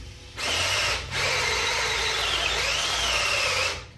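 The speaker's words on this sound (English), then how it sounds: "So you want to go ahead and start drilling out." A power drill whirs loudly in two runs with a brief pause between, its pitch wavering as the bit grinds into metal, drilling out a failed head bolt thread in a Kia/Hyundai 3.3/3.5/3.8 engine block.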